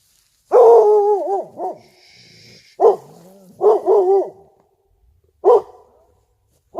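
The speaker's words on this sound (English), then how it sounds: "What are you barking about?" A dog barks close by in short bursts of one to three barks, with quiet gaps between them and a soft whimper-like tone in between.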